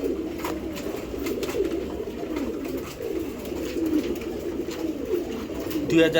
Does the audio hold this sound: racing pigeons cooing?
yes